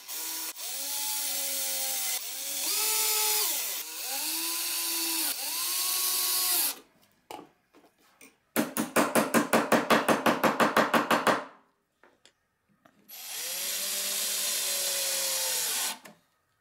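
A power drill drives screws for the toggle latches and hinges of a Moxon vise clamped to a tabletop, giving several sustained whirring runs that rise and fall in pitch, then a loud rapid ratcheting burst and one more long drill run, with no talk.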